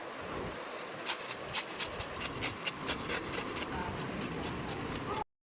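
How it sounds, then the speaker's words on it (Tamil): Peeled raw mangoes are grated by hand, giving a close, steady rhythmic scraping with repeated strokes that continues until an abrupt stop. "இப்போ நம்ம எல்லாத்தையும் துருவிக்கலாம்."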